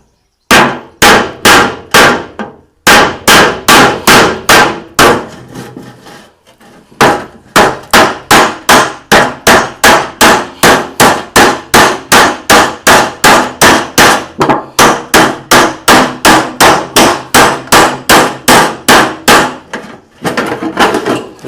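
Rapid, evenly spaced loud metallic strikes ring out as the side of an empty metal oil tin is cut, dozens of sharp clanging blows with a few brief pauses, close and without speech.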